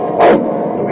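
A voice imitates a male dog's bark, giving one short, loud woof in a comedy routine.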